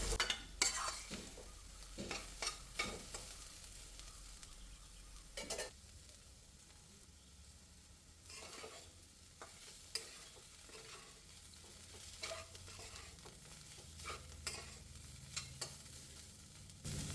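Bitter gourd thoran stir-fried in an open pan, a steady soft sizzle broken by repeated sharp scrapes and stirs of a spoon against the pan, close and alone with no talk.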